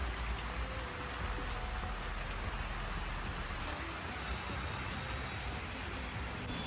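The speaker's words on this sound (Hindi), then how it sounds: "ये देखो पत्तों पे जब ये बारिश की बूंदें गिर रही है ना," Rain falling on leaves outdoors, a dense, steady hiss of countless drops that stays even and fairly soft throughout, with no voices over it.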